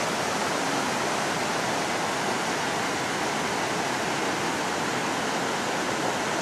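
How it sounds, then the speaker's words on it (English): Waterfall at one of the sources of the Jordan River, a swimming spot, roaring as a steady, dense, full-band rush of falling water with no letup and no voices. "Bannis Falls. People can go swimming here at times."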